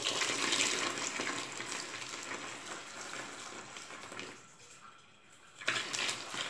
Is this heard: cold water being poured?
yes